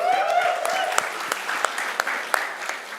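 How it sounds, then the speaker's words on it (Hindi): Applause at a Bollywood app launch event for Manoj, a steady wash of crowd clapping with a few sharper individual claps standing out and a voice briefly heard over it. "पर मनोज के लिए तालियां तो बनती है यार"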